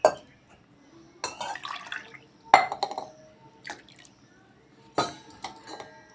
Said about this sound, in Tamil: ரெண்டையும் ஒன்றா போட்டு ஒரு 2 டம்ளர் தண்ணி ஊற்றிக்கணும்.